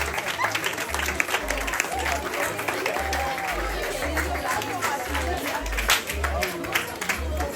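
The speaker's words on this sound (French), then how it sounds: "Tout le monde applaudissements, s'il vous plaît." Applause from a crowd at a civic ceremony honouring local champions, held with the mayor and elected officials present, a steady wash of clapping with low rhythmic thumps and a background murmur.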